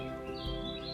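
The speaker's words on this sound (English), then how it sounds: "The fresh air, the sound of the birds." Birds chirp and sing outdoors in a garden over a steady background hum, a brief soft twittering in open air.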